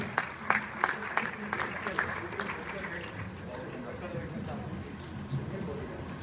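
Audience claps to welcome a guest at a Sindhi Hindu federation general body meeting and youth gathering, scattered sharp claps at first, then thinning into murmur under crowd noise and talk.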